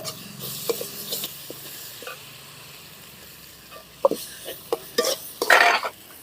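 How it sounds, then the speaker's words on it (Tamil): Crushed garlic, cumin and red okra are sautéed in a pan, with soft sizzling under scattered scrapes and clinks of a spoon against the pan, a few sharper stirring strokes toward the end. "நல்லா வதக்கணும் இடிச்சு வச்ச பூண்டு ஜீரகமும் வா வதக்கி வச்ச காய கொட்டுறேன்"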